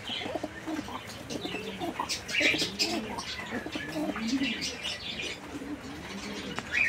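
Pigeons coo at a pigeon farm, with soft, repeated low throaty calls from several birds close by, plus occasional chirps and brief wing flutters over a quiet background.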